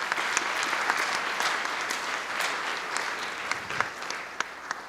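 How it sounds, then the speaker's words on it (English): Steady audience applause after high school jazz band soloists on trumpet and piano finish at a school band concert, a dense wash of clapping with a few sharper claps standing out, continuing without talk. "We have a lot of, round of applause for them"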